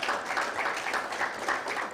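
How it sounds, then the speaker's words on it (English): A conference audience in Lagos, Nigeria claps steadily, a dense wash of applause that holds at an even level throughout. "A round of applause for yourselves."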